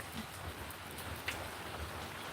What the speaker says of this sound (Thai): ฝนตกไม่แรงค่ะ